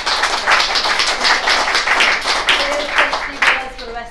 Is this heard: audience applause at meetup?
yes